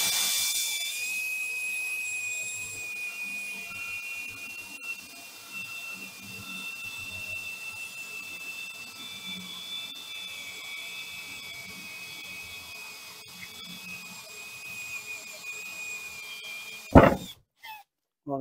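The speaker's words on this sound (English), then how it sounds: "Got that hole drilled." A drill bores a hole through a sink deck for a soap dispenser, a steady high whine running continuously at moderate level, ending in a brief louder burst near the end.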